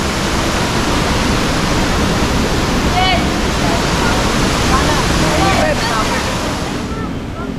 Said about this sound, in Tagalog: ang ganda ng talon ah